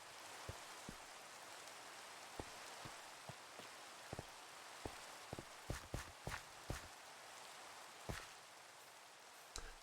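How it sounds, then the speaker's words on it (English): Minecraft rain patters steadily as soft, constant hiss, with sharp tapping drops and footstep-like clicks scattered over it, quiet and even with no voices. "Stupid rain."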